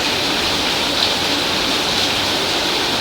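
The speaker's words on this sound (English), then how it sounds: "a heavy downpour here" Heavy rain pours down in a steady, dense hiss of broadband noise, loud and unbroken throughout, with no voices over it.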